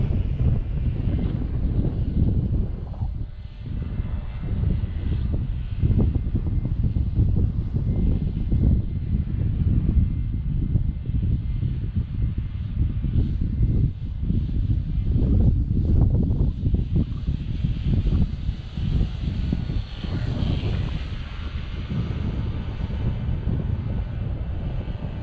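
An RC Bison XT STOL airplane on a 4S battery with a 16x8 prop runs at full throttle, a steady loud motor and propeller drone heard alone over wind buffeting for the whole stretch.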